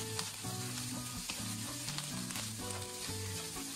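Rice stir-fried with soy sauce in a wok, a dense continuous sizzle punctuated by rhythmic scraping and tossing strokes of a spatula, close and loud with no voices.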